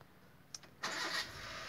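A car engine starts up nearby behind a person sitting quietly: a couple of brief clicks, then the engine catches with a loud surge and settles into a steady idle.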